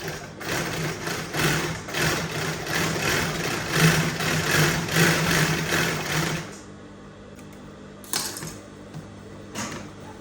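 Sewing machine running steadily on Aso Oke fabric, stitching the sides of a document bag: a continuous whirring drone for about six seconds, then stopping, with two brief short bursts of stitching afterward.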